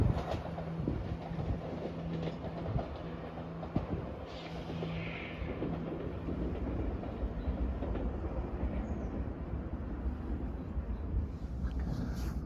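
ScotRail train on the Edinburgh Waverley to Perth service passing at North Queensferry, a sustained low rumble with faint rail clatter and wind buffeting the microphone, steady throughout.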